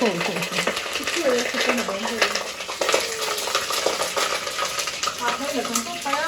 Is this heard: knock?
no